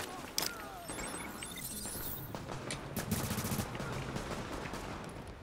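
Gunfire in the video game Tom Clancy's The Division: rapid bursts of shots and sharp cracks over a few seconds, fairly faint in the mix.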